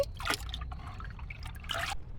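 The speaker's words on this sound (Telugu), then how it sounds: "నేను దీంట్లో చెంబులో పోసుకుంటున్నాను" Rainwater is poured from a drum into a small metal pot in short splashy trickles and dribbles, close by and fairly quiet, with bursts of pouring at the start and near the end. No one talks.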